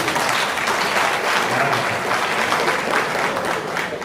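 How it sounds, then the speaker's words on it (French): Audience at a youth conference applauding, dense steady clapping that stays loud and even for the whole span with no talk over it. "Merci de faire un tonneau d'applaudissements."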